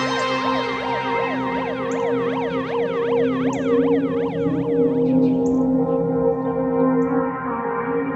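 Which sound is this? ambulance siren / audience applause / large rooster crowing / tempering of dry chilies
ambulance siren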